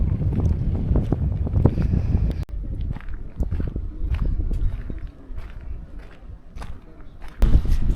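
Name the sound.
strong wind at mountain church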